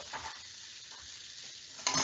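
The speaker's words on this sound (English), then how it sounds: "So it's sizzling away." Broccoli fresh from the oven sizzles in a hot tray, a steady soft crackle and hiss up close with a brief sharper burst near the end, no talking.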